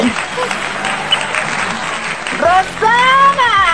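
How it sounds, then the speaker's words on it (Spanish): Studio audience applause on a late-night Spanish-language TV show welcoming a guest, a continuous crowd clapping under excited voices, with a host and guests calling out greetings near the end. "que suenen los aplausos."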